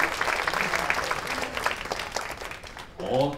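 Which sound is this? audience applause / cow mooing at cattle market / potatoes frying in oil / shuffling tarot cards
audience applause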